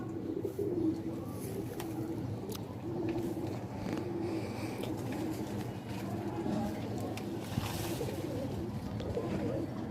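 Domestic pigeons of a Ferozpuri breed coo in low, repeated murmurs close by, over a steady background hum with people speaking now and then.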